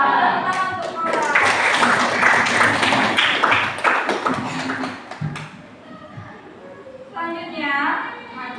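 Students in a classroom clap for their classmates in a brisk burst of many hands that lasts about five seconds, then stops as a voice begins talking.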